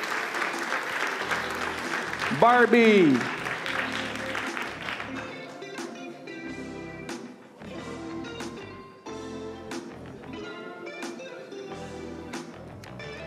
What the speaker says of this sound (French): Applaudissez le cégep de Dawson